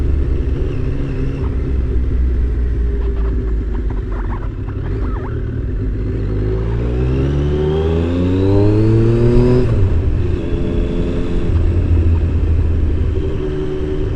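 A Triumph Daytona T595 motorcycle accelerates hard, its engine note sweeping steadily upward through the revs over loud wind rush before easing off and settling into a steady drone.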